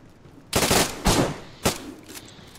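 Repeater rifle gunfire in DayZ during a PvP event on PS5: three or four loud, sharp shots about half a second apart, each trailing off in a short echo, with no talk.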